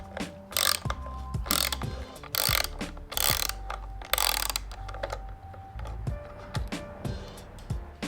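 A motorcycle bar end mirror is loosened counterclockwise, making a ratchety clicking of mechanism and several louder, hissy rasping bursts at a moderately regular pace, close and fairly loud.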